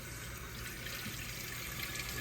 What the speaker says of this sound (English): Get some water here and rinse this out.